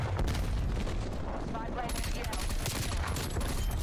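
Sustained SMG fire and explosive booms in a Black Ops Cold War match on the Yamantau map, a dense, continuous loud barrage with no clear pauses.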